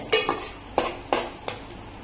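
Parboiled biryani rice tipped into mushroom gravy in a pot, heard as five sharp scraping clinks of a spoon against the metal at uneven intervals over a faint simmer.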